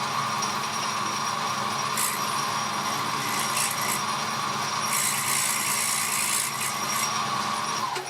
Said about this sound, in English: Now I shall just machine up this small plug for the cylinder cover.